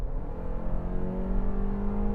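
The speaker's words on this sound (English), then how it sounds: "I do have engine noise here" A 2025 Toyota RAV4 LE with a non-hybrid gas engine drones steadily from inside the cabin, a low, continuous hum that rises slightly as it accelerates.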